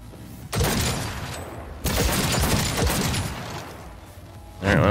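Sustained assault rifle fire in the Cyberpunk video game, dense overlapping bursts that start abruptly, rattle on for several seconds and pause briefly before resuming, loud and close.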